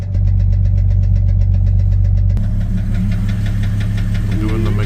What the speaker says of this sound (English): now the engine was knocking louder than ever